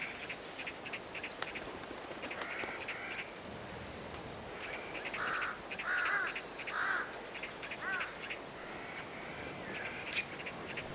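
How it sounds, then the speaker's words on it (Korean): Vultures compete over an animal carcass, giving repeated harsh, croaking calls in uneven bursts that cluster near and loud at times against a constant rustling background, with no voices. "독수리들끼리도 경쟁은 치열합니다."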